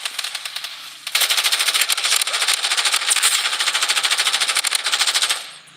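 Rapid automatic gunfire rattles in sustained bursts in the mobile shooter Blood Strike, loud and close, with a short lead-in before the steady volley and a trailing fade.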